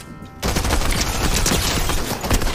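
Rapid automatic gunfire in the video game Fortnite, a dense, loud, sustained burst starting after a brief quiet lead-in and continuing without pause.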